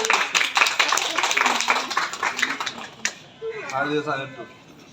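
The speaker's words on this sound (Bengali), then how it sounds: "জোরে করতালি" Applause breaks out at a Gita competition award ceremony, dense clapping under a voice for about three seconds, then thinning out as speech takes over.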